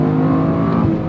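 Turbocharged engine of a 2023 Toyota Corolla Morizo Edition accelerating hard from inside the cabin, a loud, steady, rising drone with rich harmonics that stays constant throughout the short stretch.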